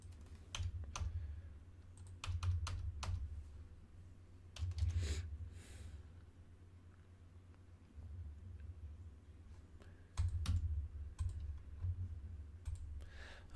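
Rapid clicking of a computer keyboard being typed on in short bursts with pauses, close and fairly quiet, with a low background hum and no talking.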